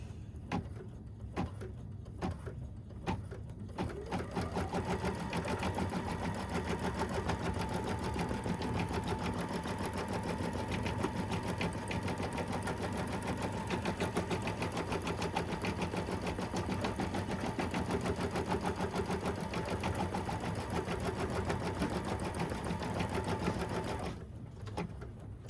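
A sewing machine stitching vinyl appliqué runs in a long, even, rapid hum of needle strokes. A few short stop-start bursts come first, then it runs steadily for about twenty seconds, close and loud with no talking.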